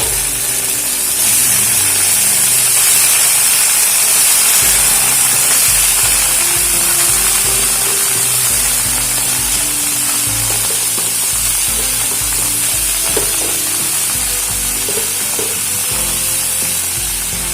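Ash gourd pieces frying with spices in a pan, a loud, steady, close hiss of sizzling oil that runs the whole time, with occasional stirring knocks underneath.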